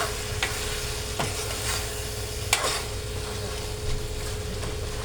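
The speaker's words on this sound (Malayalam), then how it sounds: "അപ്പം നമ്മുടെ ഇറച്ചി നമുക്കൊന്ന് ഇളക്കി നോക്കാം." Meat frying in a covered pan being stirred, with a steady low sizzle and a few sharp scraping clinks of the spoon against the pan, close by.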